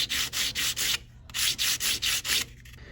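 Sandpaper rubbed by hand against a jewellery ring, a close, steady scratchy hiss in rapid regular back-and-forth strokes, broken by a brief pause before resuming the same rhythm.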